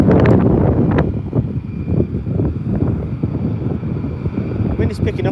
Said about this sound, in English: Wind is picking up here